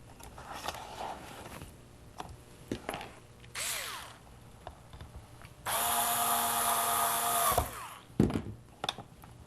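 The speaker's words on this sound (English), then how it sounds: "then I'm going to get my screwdriver" A screwdriver driving a screw into a homemade bucket light, heard as scattered clicks and taps followed by two bursts of whirring, the longer one lasting about two seconds.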